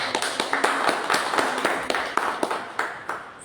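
Audience clapping in welcome for guests at a Hindi talk show, a small group of distinct claps in a loose, uneven rhythm, fairly close and moderately loud.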